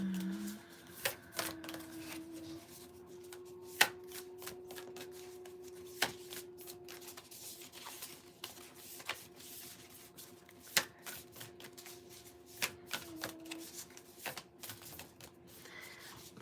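Continuous riffling and rustling of cards being shuffled, with occasional sharp taps, close up and steady throughout, no talking.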